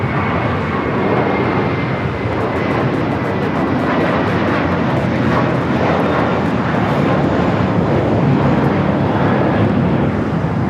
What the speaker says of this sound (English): KLM, the Dreamliner, heading back to Amsterdam, going to be taken off on 24 right.